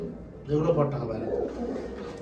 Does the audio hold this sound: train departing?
no